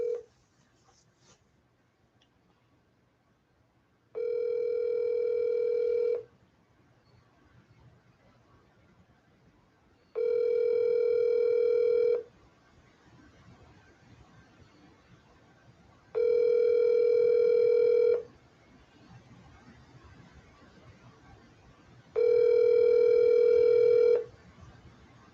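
Ringback tone of an outgoing phone call: four evenly spaced two-second ring bursts separated by about four seconds of quiet, clear and steady over faint room noise, with no talking.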